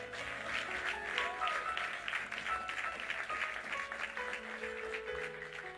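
A church congregation applauds and cheers in praise of the Lord; the clapping runs steadily for several seconds at moderate distance, with sustained musical tones underneath.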